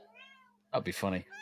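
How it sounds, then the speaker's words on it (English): A cat meows twice, first a thin drawn-out cry, then a louder, fuller meow close by, with a person's short remark spoken over the second call. "Yes, that was the cat."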